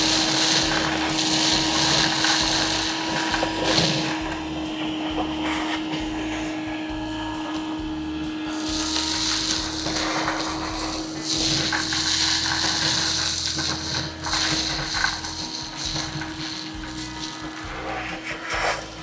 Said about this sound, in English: I'm gonna turn this on, and she's gonna vacuum this sucker out.